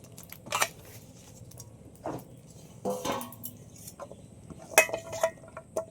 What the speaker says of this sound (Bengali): এবার পুঁটি মাছগুলো সব কড়াইয়ের মধ্যে নিয়ে নিচ্ছি।